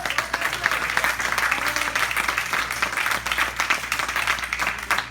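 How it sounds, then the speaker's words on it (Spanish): A church congregation applauds at a Sunday service, a steady wash of many hands clapping throughout, with a low hum underneath. "Dale un aplauso al Señor."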